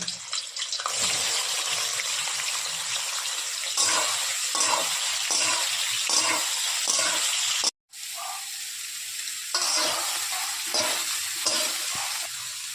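Soybean chunks fry in oil left from frying potatoes in a pan, a steady loud sizzle broken by rhythmic scraping stirs, with a brief silent gap midway before the frying and stirring resume.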